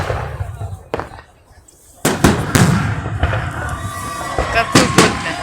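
A Victory Day fireworks salute over the central district of Tolyatti on 9 May 2023: several sharp, loud bangs and booming bursts echo nearby, with people talking close by in between.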